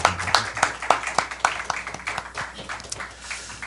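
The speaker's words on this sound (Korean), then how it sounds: "우리 박수로 감사합니다" Applause during a church worship service, a short burst of sharp individual claps in an irregular rhythm that thins out and fades, with no talk over it.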